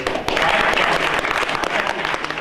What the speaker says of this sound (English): Would the audience please hold their applause until the end?